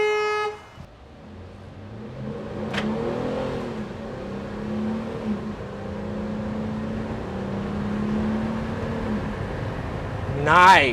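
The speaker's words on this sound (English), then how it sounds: "I just hit 50 miles an hour, cycled through most of the gears, and the transmission was ultra smooth." A V6 detail van's engine climbs in pitch through several upshifts at moderate volume, heard from inside the cabin, with a short horn blip at the start and at the end.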